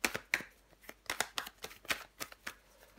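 Tarot cards shuffled and laid down on a table, a quick run of crisp flicks and slaps in an irregular rhythm, close and fairly quiet with no talking.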